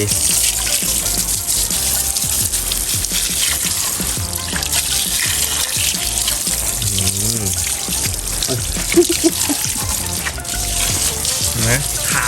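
Water sprayed onto a car engine to rinse off homemade engine degreaser, a steady broadband hiss that runs throughout, with someone talking over it.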